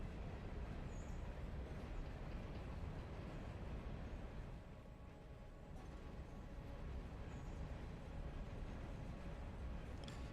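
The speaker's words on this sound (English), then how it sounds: "These locomotives just sound so good too." Locomotives rumbling along in the Railroader game on a White Pass & Yukon Route layout, a steady low, heavy drone with a faint high tone now and then, continuous and moderately distant.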